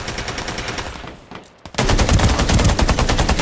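Bursts of automatic gunfire in a battle royale video game, loud and rapid, a steadier volley following a short quiet gap, with no talk over it.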